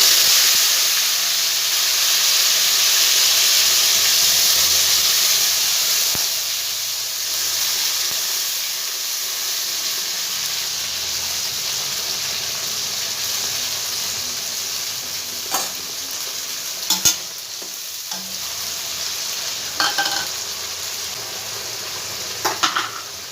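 Onion, garlic, ginger and tomato paste sizzle steadily in hot oil after the whole-spice tempering, a bright continuous hiss that softens slightly, with a few clinks and stirring scrapes near the end.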